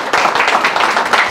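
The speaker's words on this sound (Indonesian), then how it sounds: "Berikan sorak-sorai buat Tuhan." A church congregation claps and cheers in praise to God, a dense burst of hand claps and voices that fills the room loudly throughout.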